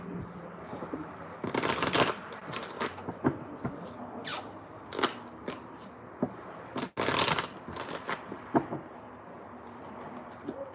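Tarot cards shuffled by hand in a riffling series of crisp bursts, two stronger flurries near the start and middle with lighter taps between, close and clear in a quiet room.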